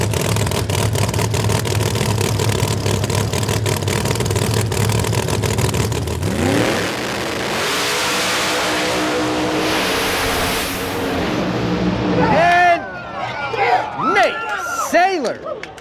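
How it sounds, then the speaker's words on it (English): Two Pro Charge drag racing cars roar down the strip side by side at Famoso Dragstrip, a loud sustained engine blast that shifts and fades, followed by rising crowd noise and sharp revving at the end. "Side-by-side action right there. Those two Pro Charge cars going at it"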